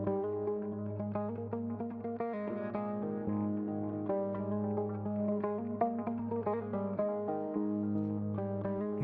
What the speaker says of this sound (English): And now you got a guitar sound.